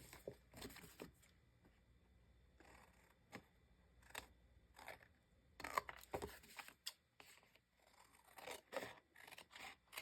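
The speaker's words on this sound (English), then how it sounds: "Let me cut this off." Scissors snipping through scraps of card paper for a handmade 5x7 card, a quiet close series of irregular crisp cuts and scrapes with short pauses, no talk.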